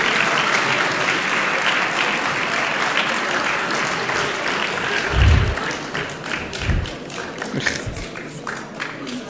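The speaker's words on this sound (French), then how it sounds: "On peut les applaudir très fort." Audience at a local news gathering applauding champion rugby and football teams, sustained clapping through most of the stretch with a few heavy thumps partway, fading slightly toward the end.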